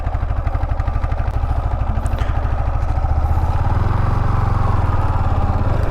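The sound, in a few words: motorbike engine running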